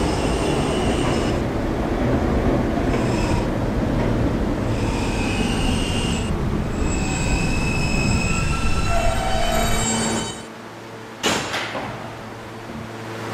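A 2008 Kawasaki R160B New York subway E train runs underground in a steady loud roar, wheels squealing and rails droning throughout, with a sharp brief clank near the end as the rumble drops away.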